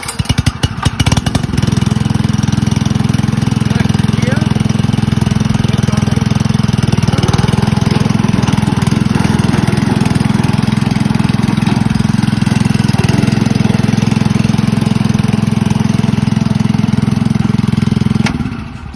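A Honda engine on a Zoom Truck power wheelbarrow cranks with a few sharp pulls, then settles into a loud, steady, close idle that runs nearly twenty seconds before cutting off abruptly at the end, with no talking.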